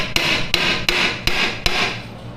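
A hammer taps a dull flat punch on the tabs of a gear case on a Honda Rancher, Foreman or Rubicon ATV, loosening Ultra Gray sealant: five sharp, evenly spaced metallic strikes, close and loud, with ringing between them and no talk.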